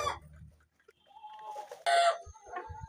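Brahma chickens cluck and squawk in short scattered bursts, fairly close, with quiet gaps and some low thumps in between.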